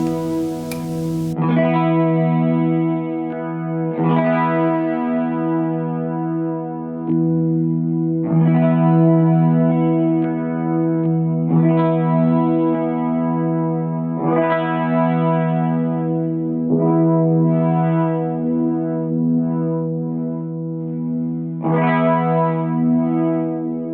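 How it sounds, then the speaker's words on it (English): An electric guitar from Stapleton, model Aurora, New Zealand made, strums an open chord again and again through heavy distortion, each strum ringing out and sustaining before the next. "I'm just going to strum a chord for this, just an open chord."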